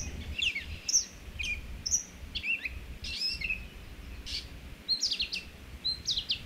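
A mimicking songbird sings a long, varied stream of phrases borrowed from robin, cardinal, wren and blue jay, bright chirps and whistles in quick bursts over a quiet outdoor background, no talking.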